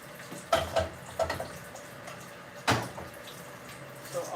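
Tap water runs into a pot being filled for cooking noodles in a home kitchen, a faint steady stream broken by a few splashy bursts and drips, with no voices.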